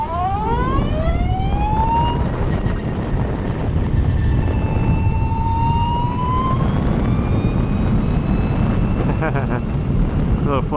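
An electric Lightning Strike sportbike, 90 horsepower at 150 volts, sweeps past with a rising and falling whine over steady roaring wind noise, loud and close throughout, with a second pass near the end.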